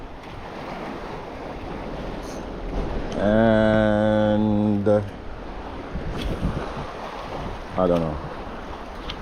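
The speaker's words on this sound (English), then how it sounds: "water start kinda get rough" Rough surf with an incoming tide at a beach in Jamaica, a steady broad wash of waves close by, with someone talking over it partway and a brief tonal honk-like sound midway.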